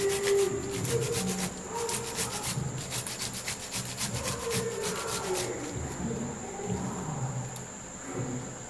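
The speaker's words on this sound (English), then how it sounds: "I'm going to be grating it to get the juice out of it." An ingredient being grated by hand to squeeze out its juice, a steady run of close rasping scrapes repeating in quick strokes, with no talking.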